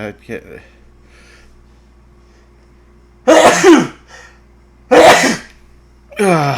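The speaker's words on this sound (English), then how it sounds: "Excuse me while I sneeze." Two loud, sharp sneezes burst out a couple of seconds apart, with a brief voice before and after them in an otherwise quiet room.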